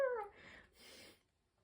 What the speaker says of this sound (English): if you're hearing that, it's just my cat like napping in the background